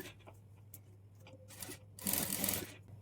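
Sewing machine stitching a folded hem on a work blouse, with soft intermittent mechanical rubbing and whirring, then a louder, denser burst of continuous running stitching near the end.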